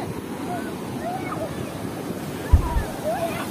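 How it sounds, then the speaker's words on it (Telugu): Big sea waves roll in at a beach in Konaseema, a steady wash of surf with wind noise and a thump partway through, while a person speaks over it. "చూడండి చాలా పెద్ద పెద్ద కెరటాలు వస్తున్నాయి"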